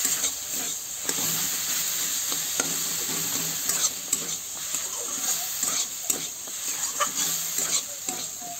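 Packaged spice masala for chole paneer is stirred in a hot pan, giving a steady sizzle with repeated scraping strokes throughout, close and fairly loud.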